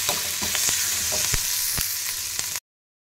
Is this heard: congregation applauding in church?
no